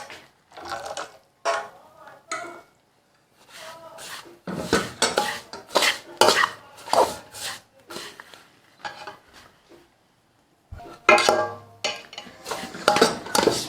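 Suji halwa stirred in a metal pot with a spoon, close and loud, in repeated bursts of scraping and clinking separated by short pauses, with faint talking at times.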